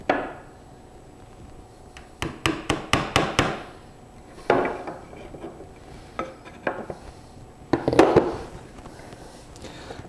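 A hammer driving a nail into a wooden beehive bottom board, a quick run of about six sharp blows followed by a few scattered louder knocks, close and alone.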